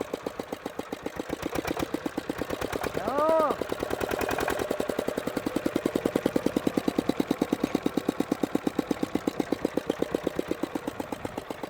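A homemade motorcycle built around a Peter engine chugs and revs close by, its fast, even single-cylinder thumping swelling in volume over about twelve seconds, with voices faintly in the background.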